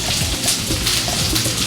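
Water poured into a hot pan of peppers gives a brief, steady sizzling hiss, with soft splashing.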